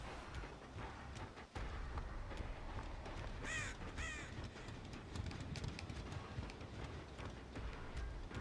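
Two harsh crow caws in Dead by Daylight ring out over a steady windy, rumbling ambience, with a sharp knock early on.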